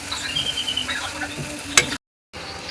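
Turmeric and chili frying with onions in a pan for a crab curry, a close sizzle with scraping stirs and a sharp clatter before a brief silent gap, no speech.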